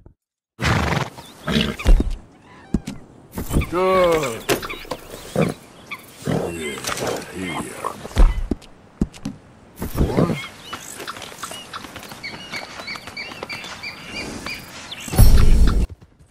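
Thoroughbred horses in the game Red Dead Redemption give several loud neighs, snorts and grunts in separate bursts, with a brief spoken word between them.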